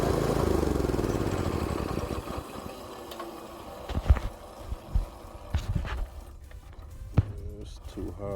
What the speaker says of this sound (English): The idle is too high, causing the clutch to engage.